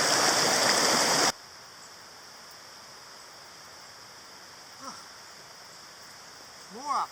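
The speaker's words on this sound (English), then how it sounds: "Babbling Brook." A babbling brook on the River Wye rushes loudly for just over a second, then cuts away to quiet woodland with faint, brief sounds.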